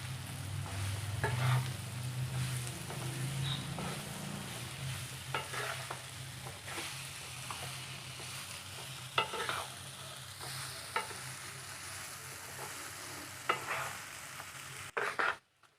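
Boiled elephant yam stirred into a frying pan after sautéing, a low steady sizzle under repeated scraping and clinking of the spoon against the pan, with a sharper knock at the end.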